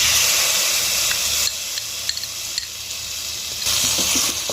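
A spice paste of ginger, green chilli, coriander, turmeric and garam masala sizzles and spits in hot oil in a pan, a loud continuous crackle that dips briefly as it is stirred.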